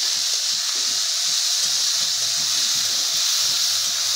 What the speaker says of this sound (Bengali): চিংড়ি মাছ দিয়ে দিলাম। এটি আমরা ভেজে নিব।